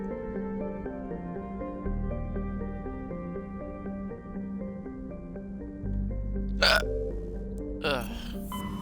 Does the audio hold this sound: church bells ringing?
no